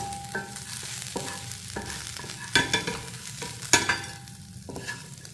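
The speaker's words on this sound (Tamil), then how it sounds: "இப்போ நல்லா நம்ம கீரையை கொஞ்சம் வதக்கியாச்சு." Ponnanganni greens sautéed and stirred in a pan, giving a soft continuous sizzle broken by a series of scraping stirring strokes, a few sharper clanks standing out near the middle.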